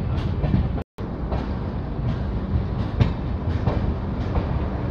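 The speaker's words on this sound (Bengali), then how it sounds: "ফাইনালি ট্রেন সাঁতরাগাছি এন্টার করছে।" Dhauli Express passenger train rolling on rails into Santragachi station at night, a continuous loud rumble with rhythmic clickety-clack of wheels over joints, heard from inside the carriage.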